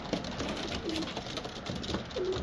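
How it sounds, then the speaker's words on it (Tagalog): Racing pigeons on a rooftop give a few soft, low coos spread across a few seconds over faint outdoor background noise. "Bubugawin natin mga kalapatids."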